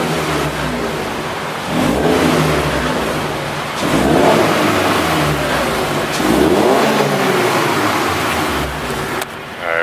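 A 2017 Subaru BRZ fitted with a new MXP exhaust revs repeatedly, three loud rising engine surges in a row, close by, with a brief sharp cutoff near the end and no talking.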